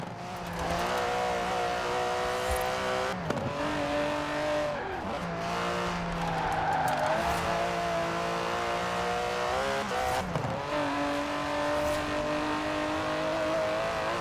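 An Aston Martin DB11 with a 5.2-litre twin-turbo V12 driving in Forza Horizon 4, its engine droning steadily, then repeatedly dipping and climbing in pitch as it shifts gears and revs, with a light tire squeal, close and continuous.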